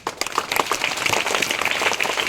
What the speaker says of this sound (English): So first of all, for them you should give a huge round of applause.